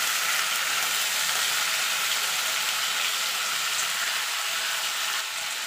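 Drumsticks, potato and tomato frying in a pan, a steady close-up sizzle that holds evenly throughout with no talking.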